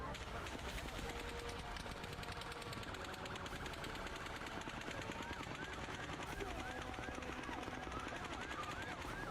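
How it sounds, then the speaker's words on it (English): Rapid bursts of automatic gunfire at an outdoor mass shooting, heard distant and echoing in a dense, continuous crackle beneath a busy noisy background. "But then, a sixth burst of fire."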